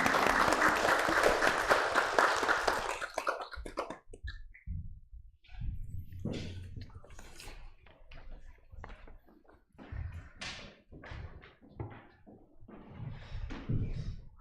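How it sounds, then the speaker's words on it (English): A congregation at a Buddhist Self Transformation Day ceremony applauds the children with a dense burst of clapping that fades out after about four seconds, leaving scattered faint knocks and clicks in a quiet room. "Big applause to our children Buddhas."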